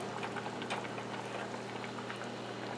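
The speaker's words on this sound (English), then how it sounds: "I want to pour some of the broth from the fish and corn chowder into this bowl" Fish and corn chowder broth poured into a bowl, a continuous soft liquid splashing and trickling with a low steady hum beneath, close and moderately quiet.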